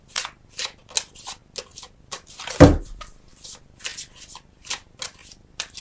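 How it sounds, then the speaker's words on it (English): A Flower Therapy oracle card deck is shuffled by hand at close range, giving quick repeated riffling bursts at a steady rhythm with one sharper snap partway through, and no voices. "I want to get one more card for you, Libra, and then I'm going to close out your reading. And I think I want to get it from the Flower Therapy deck."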